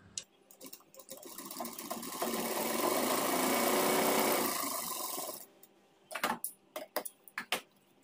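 An electric sewing machine runs a continuous double line of stitching along the seat seam of a pair of trousers, its steady whirring hum building and holding for several seconds before stopping, followed by a few short clicking bursts as the fabric is adjusted.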